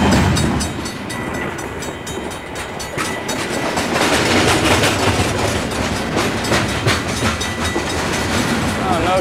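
A long freight train without a caboose rumbles past nearby with steady clickety-clack from its wheels and rattling cars, loud and continuous, while people talk faintly underneath.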